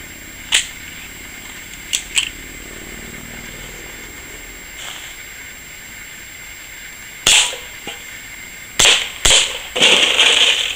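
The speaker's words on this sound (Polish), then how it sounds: "Jak widać pistolet nadal strzela." A Colt Special Combat gas airsoft pistol fires a series of sharp snapping shots, a few widely spaced and then a quicker cluster near the end, close and crisp against a quiet background.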